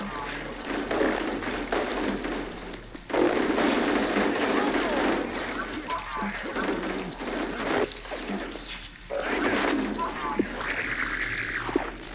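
Weapons fire crackles throughout a Halo: Combat Evolved cutscene as a dense, continuous battle din of rapid shots and bursts, with voices shouting over it.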